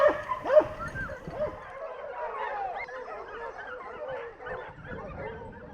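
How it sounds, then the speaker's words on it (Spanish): Hunting dogs bay and yelp at a wild boar they have brought to a halt during a Spanish montería, sharp barks up close at first, then a busy overlapping chorus of yips and whines. "Lucha de tú a tú entre perros y cochino"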